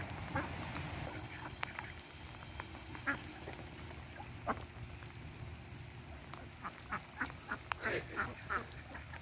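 A flock of eleven ducks quack in scattered bursts over a steady outdoor background hiss, the calls growing more frequent toward the end.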